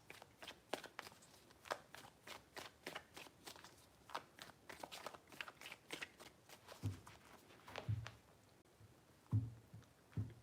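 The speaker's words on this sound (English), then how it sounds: "Three shuffles." A deck of tarot cards is riffled and shuffled in a quiet room, a run of quick crisp flutters and soft slaps in uneven bursts, close and fairly faint, with no one speaking.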